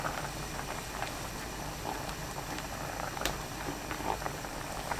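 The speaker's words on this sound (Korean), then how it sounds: "양파, 애호박 넣고 뚜껑 닫아 1분 끓여주세요" Cheonggukjang stew with onion and zucchini bubbles under a closed lid, a steady low simmering burble with faint pops, close and even throughout.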